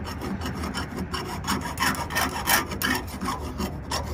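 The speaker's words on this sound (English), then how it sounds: "So just simply using a chainsaw file, you can use a rat tail file, works well." A chainsaw file rasping burrs off the inside of a freshly cut fitting during a forestry winch setup, quick repeated scraping strokes at close range, steady and uneven in rhythm.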